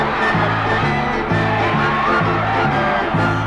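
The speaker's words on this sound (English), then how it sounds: "Everybody cheer for Melvin." A children's radio show stages a crowd cheering for a Little League player named Melvin. The cheering runs loud and continuous over a rhythmic, repeating musical bass line.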